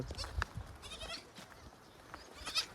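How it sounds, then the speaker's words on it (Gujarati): Goats bleating at a rural farm, several short faint calls scattered through the stretch against quiet outdoor background noise. "અમારે બકરા છે"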